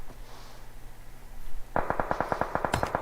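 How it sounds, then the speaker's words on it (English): Gunfire rings out in a PUBG Mobile-style battle royale esports match, a quick run of sharp rhythmic shots after a quieter stretch, moderately loud and fairly distant. "now we hear gunshots here coming from, I think, Lag Esports."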